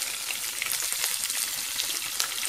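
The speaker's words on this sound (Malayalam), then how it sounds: "സവാള നമ്മൾ ചേർക്കുമ്പോൾ കൈകൊണ്ട് ഇതുപോലെ ഒന്ന് അടർത്തിയിട്ടിട്ട് വേണം ചേർക്കാൻ വേണ്ടിയിട്ട്." Sliced onions frying in a pan for a Kerala-style chicken curry, giving a steady close crackling sizzle with small bright pops throughout, alone with no talk.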